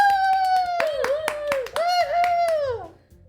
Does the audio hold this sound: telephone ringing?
no